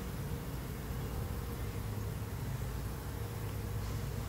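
Honey bees around an open hive with brood frames, a dense, continuous buzzing hum that stays steady and fairly close throughout, with no voices.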